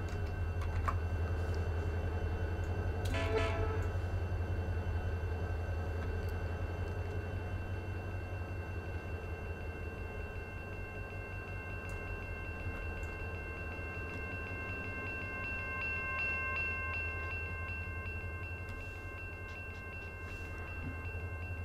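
Run 8 simulator diesel locomotives rumbling steadily at low pitch, with a short clanking burst early on and a continuous mechanical hum that eases slightly in loudness later, no voices.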